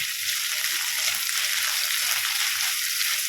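Onions and green chillies sauté in a pan for an egg theeyal, a constant loud, bright sizzling hiss close by, steady throughout with no speech.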